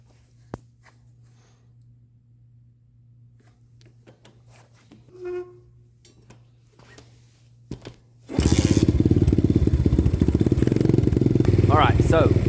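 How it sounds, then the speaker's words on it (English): A 125cc pit bike fitted with a Nibbi 22mm carburetor starts after quiet handling noises and settles into a loud, steady idle that runs unbroken to the end. "I'm also going to turn the big red knob a little bit to the right, and it should bring the idle up just a hair."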